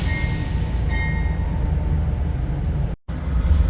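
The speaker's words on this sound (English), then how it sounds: "it was Amtrak 280 coming from Niagara Falls heading to New York." Amtrak 280 passenger train from Niagara Falls toward New York, led by a P-42 locomotive with a P-32 on the rear, passing with a steady low rumble and rolling rail noise, a brief cut near the end.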